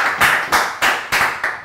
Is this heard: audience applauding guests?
yes